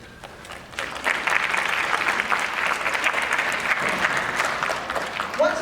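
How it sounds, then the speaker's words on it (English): Audience at a Black History play in Neptune gives a standing ovation, with dense, sustained clapping that swells after a second and holds loud to the end. "let's give these ladies a super large standing ovation, round of applause"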